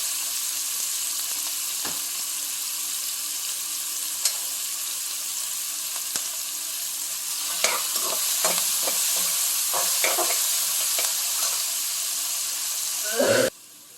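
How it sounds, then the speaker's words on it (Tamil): Chopped onions sauté in oil in a frying pan for chicken gravy, a steady sizzle and hiss broken by a few scraping stirs and clacks of a spoon against the pan, ending on a louder knock. "இதை போட்டுக்கலாம். இது நல்லா வதங்கட்டும்."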